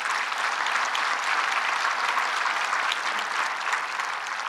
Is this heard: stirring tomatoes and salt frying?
no